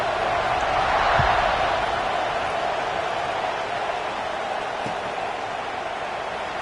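Steady roar of a stadium crowd in a college football video game as the kickoff is set, a broad sustained wash of cheering at an even level with a faint thump or two, and no clear voices above it.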